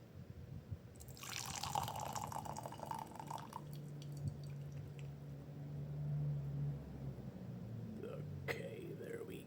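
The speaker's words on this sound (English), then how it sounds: "Let me pour in some water." Hot water is poured to brew a 2003 Youle raw Pu'er tea: a short, soft splashing pour, then quiet dripping under a low steady hum.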